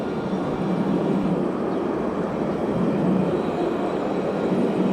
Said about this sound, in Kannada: ಮಧ್ಯನೇ ಟ್ರಾಮ್ ಹೋಗೋದು ಈ ಥರ